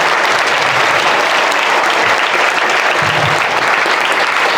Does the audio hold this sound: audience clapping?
yes